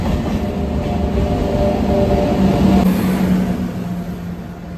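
The Barbil Jan Shatabdi Express pulls into Howrah station with a loud, steady rumble of rolling rail cars and faint wheel clatter, close by and continuous, with no talk over it.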